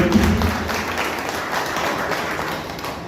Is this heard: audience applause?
yes